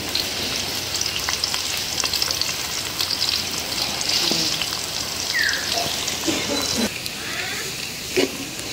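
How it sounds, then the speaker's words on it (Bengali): Garlic and torn dried red chilies fry in oil, producing a dense, steady crackling sizzle close by, punctuated by a few light stirring clinks. "একদম রসুন মরিচ ভালো করে ভেজে নিলাম"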